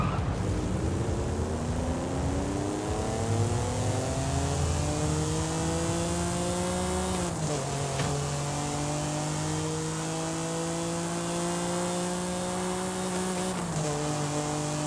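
A car engine in Forza Horizon 5 with VTEC revs steadily toward a high redline, loud and close, its pitch climbing and then dropping at two clear gear changes.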